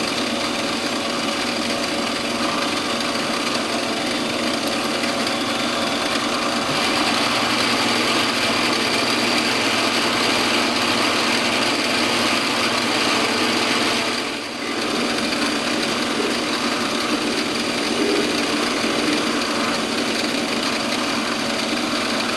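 A metal lathe makes a final cut on a quick-change tool post stud, giving a steady, close mechanical whir with a constant cutting hiss that runs unbroken apart from a brief dip near the end, no voices.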